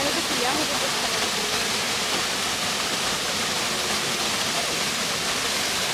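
Savri Waterfall in Netravali Wildlife Sanctuary, South Goa, rushes in a constant, loud broadband roar, close and unbroken, with faint voices buried beneath it.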